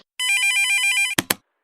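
A telephone rings at the start of a 911 call in a comedy skit, one bright electronic warbling ring burst, then two sharp clicks as the line picks up, loud and alone.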